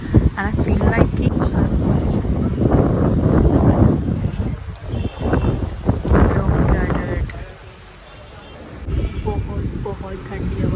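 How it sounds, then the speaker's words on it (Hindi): Cold wind gusting through fog in the hills near Mussoorie, a steady rumbling buffet against the microphone that drops away briefly before returning, with a person talking over it. "यहाँ पे पूरा फॉग हो गया एंड ठंडी हवा चल रही है।"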